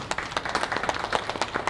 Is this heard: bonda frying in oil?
no